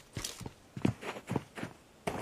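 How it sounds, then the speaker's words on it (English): Footsteps in a battle royale video game, a steady run of quiet, evenly spaced steps with no talk over them. "He can hear the footsteps all around him."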